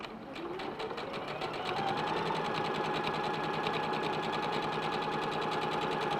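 A sewing machine stitching quilt fabric squares, running in a fast, steady mechanical whir with rapid regular clatter, close and alone for several seconds.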